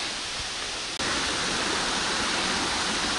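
Glen Falls pours heavily after rain, a loud, dense, continuous roar of falling water with a brief dropout near the start.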